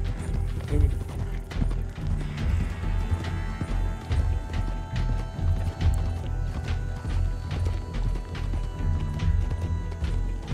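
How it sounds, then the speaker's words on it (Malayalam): Horse hooves gallop in Red Dead Redemption 2, a steady run of clip-clop beats over a busy game soundscape, fairly loud and continuous, with a brief whinny early on. "ഓ ഈ കുതിരേനെ നമ്മുടെ കുതിരയാക്കാൻ വേണ്ടി കൊണ്ടുപോണേ"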